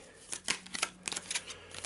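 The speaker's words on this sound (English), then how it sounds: "Quick shuffle just to make sure it's random." A deck of cards is given a quick shuffle during a tabletop board game, heard as a soft, close run of riffling flutters in short bursts.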